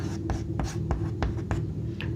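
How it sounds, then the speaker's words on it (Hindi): A pen writes a maths solution by hand in a quick series of close scratching strokes, evenly spaced, over a faint steady hum. "यहाँ लिखते हैं,"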